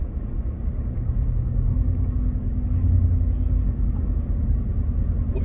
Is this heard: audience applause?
no